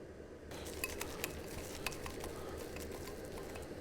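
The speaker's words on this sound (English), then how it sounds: "And whisk it up a bit more." Batter made with self-raising flour being whisked in a bowl, a quiet, steady clicking and swishing with faint clinks of the whisk against the bowl, close and continuous, without talking.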